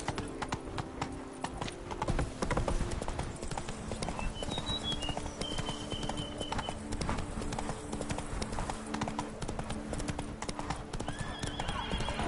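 A horse gallops with steady rapid clip-clop hoofbeats in The Witcher 3: Blood and Wine, interrupted by a couple of neighs and whinnies, loud and continuous under game music and ambience for the whole stretch.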